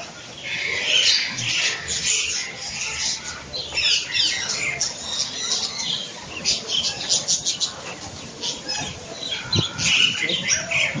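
Many birds in an aviary chirp, squawk and flutter their wings close by, a busy, continuous chatter with occasional sharper calls.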